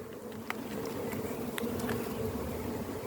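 Honeybees buzz steadily on the tops of hive frames during an evening hive inspection, a dense continuous drone close by with a few brief clicks over it.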